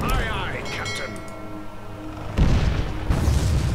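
An artillery battery fires in the fantasy strategy game Warlock: Master of the Arcane, two loud booming blasts landing in quick succession after a stretch of game effects, with a voice talking over it.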